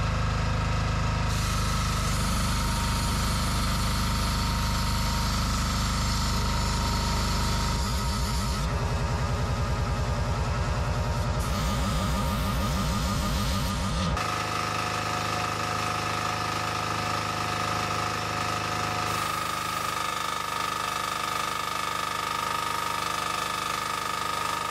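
A Proton 360 Plus petrol generator runs under an induction motor load, a steady loud engine drone with shifting mechanical tones and changes in pitch partway through, with no talking.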